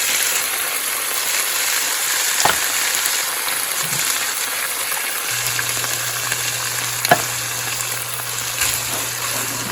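Tomato sauce warms in a pan with a soft steady sizzle and bubbling, fairly faint, with a couple of small clinks and a low hum joining partway through.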